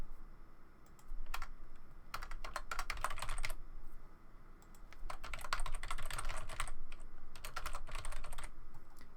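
Computer keyboard keys clack in quick bursts of close typing, pausing briefly between flurries of keystrokes, with no talking.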